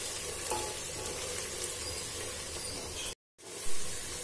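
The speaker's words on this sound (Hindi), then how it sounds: "प्याज का कलर थोड़ा चेंज होने लगा है, लेकिन अभी हमें थोड़ी सी डार्क और करनी है, तो अभी हम थोड़ा सा इसे और फ्राई करेंगे।" Sliced onions frying in a pan as they turn from pale toward light golden for an aloo keema, a dense, continuous close-up sizzle with a brief drop to silence near the end before it resumes.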